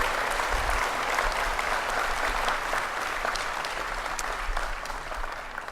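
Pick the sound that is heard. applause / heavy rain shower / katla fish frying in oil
applause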